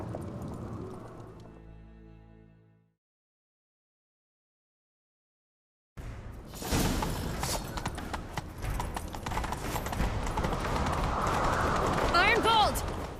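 Horse hooves clip-clop at a gallop through a busy soundscape in The Witcher 3: Wild Hunt, following a brief musical passage and a pause of silence.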